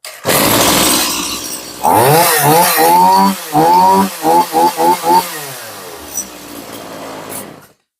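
A used Stihl MS180C chainsaw engine starts and runs loud and close, with rising and falling throttle revs in several bursts, a short sputter, then the motor dies away.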